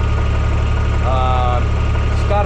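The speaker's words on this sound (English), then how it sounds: "Started the tractor up." A tractor engine idles steadily and loudly, a constant low rumble with no break, while a voice briefly comes through partway.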